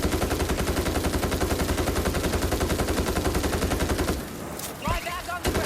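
Rapid automatic gunfire rattles continuously and loudly in the video game World War Z: Aftermath during horde mode on the Rome map, then stops abruptly and leaves a few scattered shots and game sounds.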